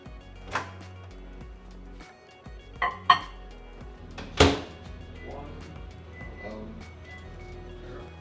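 Sharp ceramic clunks and clacks as a mug of pancake batter is set into a microwave and the door handled, several distinct knocks and a louder bang over a quiet background.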